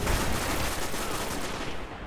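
Loud, continuous video-game gunfire filling a short burst, a dense rattling barrage that holds steady without pauses and thins slightly at the end.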